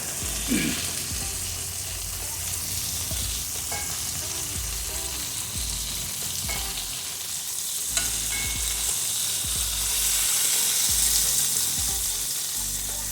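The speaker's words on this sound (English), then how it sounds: "that little bit of oil in there is all we needed to get a nice little fry on our livers" Chicken livers frying in a little oil in a pan, a continuous close sizzle with occasional scraping stirs and small pops over about thirteen seconds.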